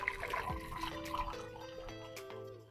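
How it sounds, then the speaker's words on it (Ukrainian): Boiled water poured from a kettle into a saucepan while preparing to make ghee, a continuous splashing, trickling stream heard up close with the pitch shifting as the pot fills. "Наливаю водичку, кипячену кипяток."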